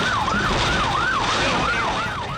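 An ambulance siren runs at full speed, wailing in a loud, regular up-and-down sweep that repeats several times over steady road noise.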